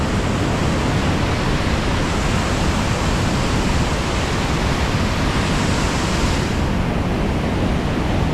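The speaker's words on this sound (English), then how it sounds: "the main waterfall drops down between these 2 cliffs" High Force waterfall on the River Tees, dropping between two cliffs of dolerite rock, gives a loud, steady, broadband roar that holds constant throughout with no voices.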